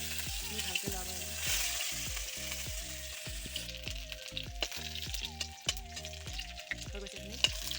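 Ginger and garlic sizzle steadily in hot oil in a home kitchen while a utensil stirs and scrapes the pan in regular clinks, the frying hiss staying close and even throughout.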